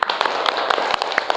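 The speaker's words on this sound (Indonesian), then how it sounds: "tepuk tangan buat kelompok" Schoolchildren in an Indonesian classroom clap for a group during a Qur'an and Hadith lesson, a brief burst of brisk, uneven applause filling the room.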